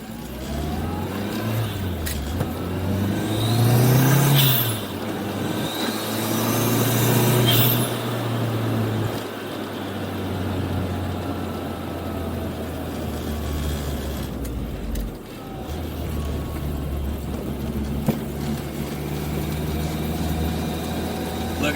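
A turbocharged classic Mini Cooper Clubman Estate engine pulls steadily up a very steep hill, its loud continuous drone rising and holding with revs inside the cabin, no talk over it.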